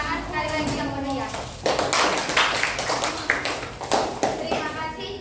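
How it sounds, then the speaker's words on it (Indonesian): Lively applause from a school group marking Youth Pledge Day, with scattered claps and taps growing busier while children's voices chatter over it. "tepuk tangan sekali lagi yang meriah"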